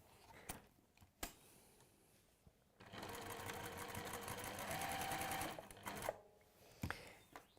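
Sewing machine stitching fabric: a few sharp clicks and handling knocks, then a close, steady run of rapid mechanical stitching for about three seconds, followed by more scattered clicks and thumps in a quiet room.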